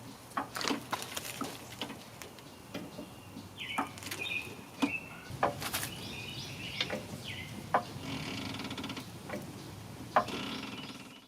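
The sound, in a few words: jack lifting a Jeep Grand Cherokee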